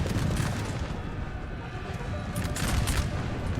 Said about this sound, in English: This infantry's probably going to volley this cav right here.